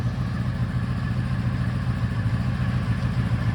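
A Honda V65 Sabre VF1100S motorcycle idles steadily just after a cold start, a continuous low, even engine rumble with a faint mechanical clatter, close by and without voices.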